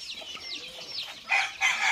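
Hens cluck and chirp close by near chicks in a rural farmyard, a few short rising calls then a louder burst of clucking, with no talking.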